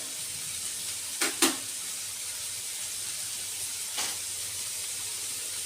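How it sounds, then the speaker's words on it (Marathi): Mint and chopped vegetables sauté in a pan for kadhi pulao, a steady close hiss of frying broken by a couple of quick stirring scrapes and a later clink, with no voices. "ह्या भाज्या आपल्याला अर्ध्या परतवायच्या आहेत जास्त परतवायच्या नाहीत"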